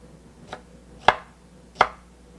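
Three crisp knife chops cut through Brussels sprouts laid cut side down on a cutting board, spaced roughly half a second apart, close and sharp, the first softer than the next two, with no talk over them.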